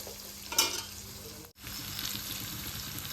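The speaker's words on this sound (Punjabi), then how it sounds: "ਸਾਰਾ ਸਮਾਨ ਆਪਾਂ ਵਿੱਚ ਪਾਤਾ ਤੇ ਆਪਾਂ ਹੁਣ ਇਹਨੂੰ ਚੰਗੀ ਤਰ੍ਹਾਂ ਭੁੰਨਣਾ ਹੈ" Spice masala with vegetables for a potato-onion curry roasting in a pan, a steady close sizzle with a brief scrape of stirring and a short drop to near silence midway before the frying resumes.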